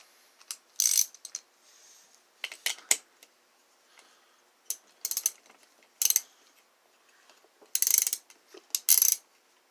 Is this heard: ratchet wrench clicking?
yes